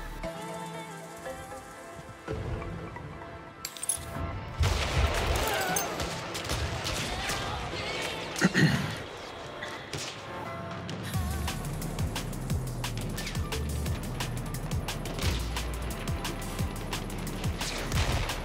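Mortar fire in Battlefield 1: heavy booming impacts and crashing debris, with a dense roar of battle after the opening seconds and a sharp, loud blast near the middle, steady chaos continuing to the end.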